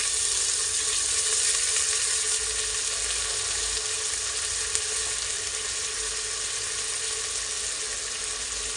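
Potatoes sizzle and fry in a hot pan for an Indian spiced yogurt rice dish, a steady, close, bright crackling hiss that runs unbroken throughout with no voices.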